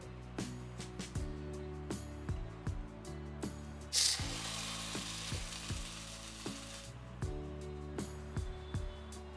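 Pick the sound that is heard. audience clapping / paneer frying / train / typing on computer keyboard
paneer frying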